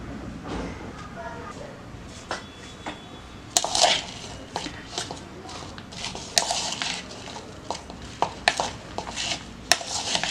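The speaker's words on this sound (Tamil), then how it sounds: "இப்போ இதை நல்லா மிக்ஸ் பண்ணி விட்டுருங்க." Okra being stirred with turmeric in a dish, giving scattered spoon scrapes and clinks of cutlery against the bowl with soft wet shuffling, near and moderately loud.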